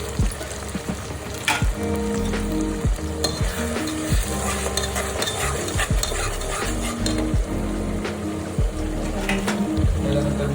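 Onion, bay leaf, green masala and ginger-garlic paste frying in two spoons of oil in a kadai for Kolhapuri chicken curry, a constant loud sizzle with rhythmic spoon scrapes and stirring, no speech.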